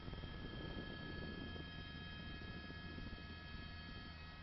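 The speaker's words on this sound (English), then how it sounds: "that's an LAPD helicopter lighting it up" An LAPD police helicopter over a Los Angeles police chase makes a faint, steady, muffled drone overhead that continues without a break.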